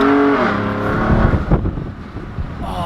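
A 2020 Ford Raptor fitted with an X pipe exhaust accelerates, its engine note rising and breaking into crackles and pops through a gear change, loud and close inside the cab.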